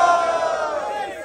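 A rap battle crowd erupts in a loud, dense wall of shouting and cheering, sustained and close throughout the brief moment.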